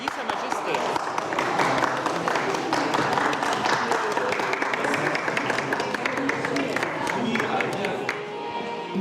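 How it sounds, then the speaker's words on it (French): An audience applauds at a ball inside the Château de Versailles, steady dense clapping filling the whole stretch with a crowd murmur underneath, tapering slightly near the end. "On applaudit Sa Majesté."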